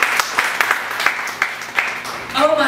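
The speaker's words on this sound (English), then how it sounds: "Let's give the Lord a clap of praise" A church congregation claps in praise, the claps scattered and uneven and mixed with voices and ambient room noise.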